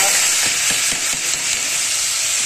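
Bottle gourd and dal fry in hot oil with a loud, dense, steady sizzle, a few soft stirring knocks early on.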